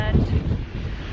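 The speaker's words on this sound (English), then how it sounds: "It's really windy" Gusty wind buffets the microphone with low rumbling noise throughout, loud and close.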